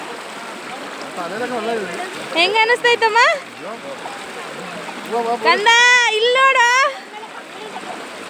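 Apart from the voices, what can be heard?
water flowing in a stream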